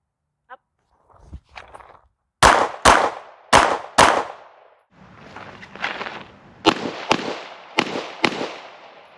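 Pistol shots from a Springfield Armory Echelon 4.0C: two quick pairs of sharp, loud cracks, then several more scattered shots, with softer shuffling and movement between them.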